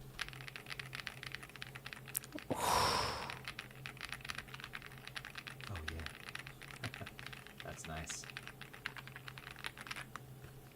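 Quick, continuous typing on a mechanical keyboard with brown switches, a close stream of soft clacks with a brief louder rustle partway through, while a voice comments briefly.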